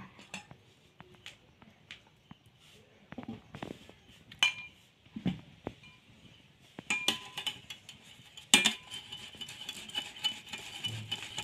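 Boiled potatoes are rubbed over a metal kitchen grater, with intermittent scraping strokes, clinks and rattles of utensils, fairly quiet and uneven with occasional louder knocks.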